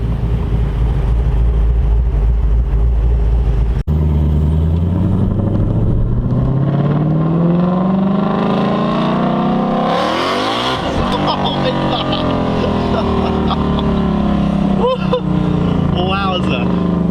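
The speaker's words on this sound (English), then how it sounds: "That V8 just sounds amazing." A loud 2020 Ford Mustang Shelby GT500 V8 roars and revs in track mode, its pitch climbing steadily as it accelerates, then cracking and popping from the exhaust.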